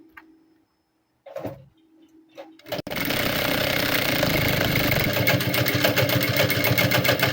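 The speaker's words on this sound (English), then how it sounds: "we'll go ahead and sew it down" A sewing machine stitches down the fabric of a structured cape. After a few quiet seconds of soft handling, it starts abruptly and runs steadily and loudly nearby, with a fast mechanical chatter.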